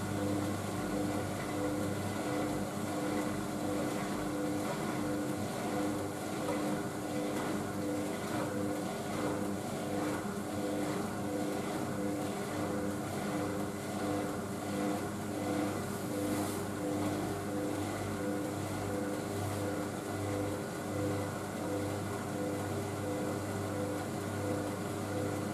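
An Indesit IWC6165 washing machine on its final spin, a steady loud droning whir with a constant mechanical rumble that holds evenly throughout, with no voices.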